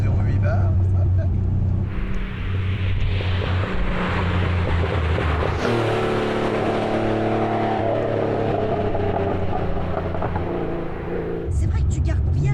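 A RUF-tuned Porsche 930 Turbo with over 400 horsepower accelerates hard, its loud engine roar climbing and then changing pitch at a gear shift partway through, running continuously close up while people talk over it.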